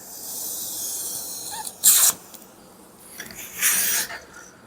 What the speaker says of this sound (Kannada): ಇಲ್ಲಿಂದ ಗಾಳಿ ಊದಿದಾಗ ಬಲೂನು ಊದುತ್ತೆ